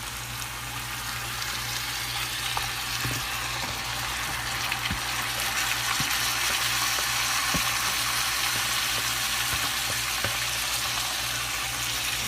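Vegetables sizzle in a hot pan alongside stewed pork steaks, a steady close frying hiss with occasional soft crackles and clicks throughout, no one talking.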